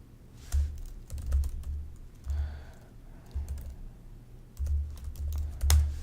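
Typing on a computer keyboard in close, uneven bursts of keystrokes separated by short pauses, with a few louder key presses, alone without talk.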